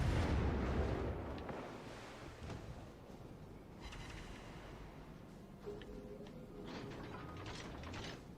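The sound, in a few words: warship guns firing in World of Warships: Legends video game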